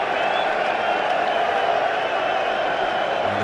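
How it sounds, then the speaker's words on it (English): A cricket stadium crowd gives a steady, far-off roar of cheering and clapping that stays at an even level throughout, with commentary faintly underneath. "And the crowd have just gone nuts because he missed one."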